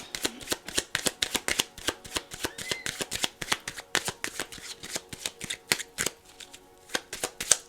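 Tarot cards are shuffled for a reading in quick, crisp riffles and slaps, a steady run of close, distinct bursts repeating throughout without talk.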